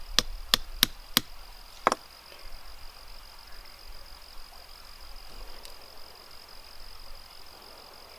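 Sharp hard cracks of a hickory nut shell being broken open outdoors: four quick snaps in a row, then one more crack, followed by quiet ambience with a faint steady insect-like whine.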